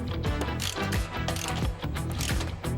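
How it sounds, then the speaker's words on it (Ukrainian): A bolt on a boat trailer is tightened with two 17 mm wrenches, producing rapid, close metallic ratcheting clicks in a continuous burst with no voices. "І ось нарешті беремо набір інструментів і прикручуємо наш перший болт"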